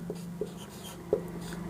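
Chalk or marker writing a Hindi word on a board, soft scratchy strokes with a couple of distinct taps over a steady low hum.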